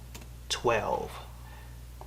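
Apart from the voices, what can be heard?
typing a year on a computer keyboard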